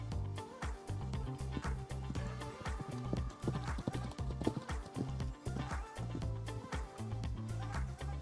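A young horse cantering through a showjumping grid of poles and small fences, with a rapid, steady three-beat rhythm of close, loud hoofbeats throughout.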